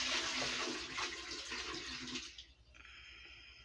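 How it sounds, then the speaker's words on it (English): Water from a bucket splashes into a bathtub in a loud rushing pour that fades out after about two seconds. Quiet running water follows. "she dumped a bucket of water in there"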